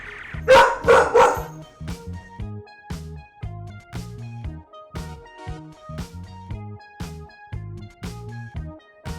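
A restless dog in crate training barks in a quick, steady series of sharp, fairly loud barks from inside its crate, with no talking over it.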